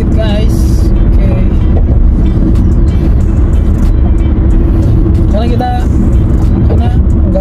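Car driving a route home from work in Canada, its engine and road noise forming a loud continuous rumble throughout, with a person talking over it the whole time.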